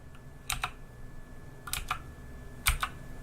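Keys clacking on an Aukey RGB mechanical keyboard, a few quick pairs and clusters of crisp strokes spaced apart over a faint steady hiss.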